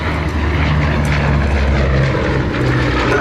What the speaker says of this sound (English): here's the last of our Mercury-engined aeroplanes running through solo now, the Bristol Blenheim